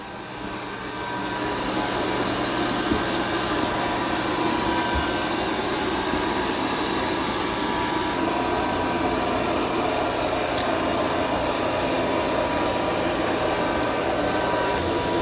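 A Dreame X30 Ultra robot vacuum and mop runs steadily over muddy paw prints on a floor, a constant loud whirring drone that swells in over the first two seconds and then holds even, with no talking.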